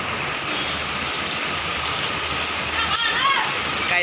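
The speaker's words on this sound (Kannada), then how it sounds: "ಹುಬ್ಳ್ಯಾ ಆನಮಳಿ ಮಳೆ ಐತಿ." Heavy rain in Hubli pours down as a steady, dense hiss that continues without a break and fills the whole stretch.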